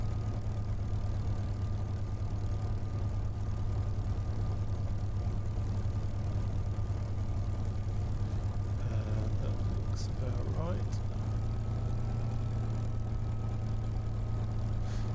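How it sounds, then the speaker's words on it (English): A Supermarine Spitfire's piston engine idles in a flight simulator at Goodwood airfield, a steady low drone with a faint whine running evenly under the whole stretch. "I want you to hear the engine"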